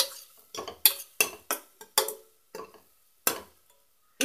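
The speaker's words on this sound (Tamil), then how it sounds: "இப்போ இந்த சேர்த்த பொடியெல்லாம் ஒரு வாட்டி மிக்ஸ் பண்ணி விட்டுக்கலாம், கொஞ்சம் ஃப்ரை ஆகட்டும்" Spice powders get stirred into tomatoes and onions in a pan, heard as a series of separate spoon scrapes and clinks against the metal with quiet gaps between them, and little sizzle.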